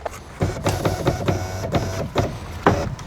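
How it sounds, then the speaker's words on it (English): The power window of a Mazda CX-3 is lowered with the door card off: a close, steady mechanical whir of the motor and glass, with bumps and clicks along the way and no talk. "then I will lower the window"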